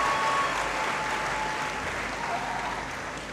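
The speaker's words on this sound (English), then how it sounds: "I believe he deserves another big round of applause now" A large audience at a university graduation congregation in a great hall gives a dense, sustained round of applause that holds steady and fades a little toward the end.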